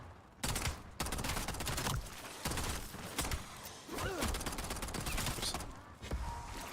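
Sustained gunfire in Black Ops 7 Zombies, loud rapid automatic bursts repeating across the whole stretch with brief pauses between volleys and heavy thuds mixed in.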